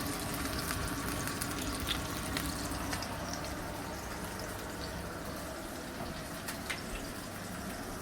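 A duck breast fries skin side down in a pan, rendering its fat with a steady, close sizzle and scattered spits and crackles throughout.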